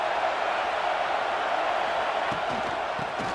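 A football stadium crowd roars steadily on a big third down in a UNC versus Clemson game, a dense, loud wash of cheering that holds throughout with faint thumps beneath.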